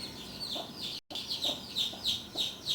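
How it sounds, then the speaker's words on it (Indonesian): A newly hatched chick, just freed from its shell in sunlight, cries out in a run of repeated high, shrill peeps close by, with a short break near the start. "sementara anak ayam ini terus berteriak-teriak sebagaimana yang kalian dengar"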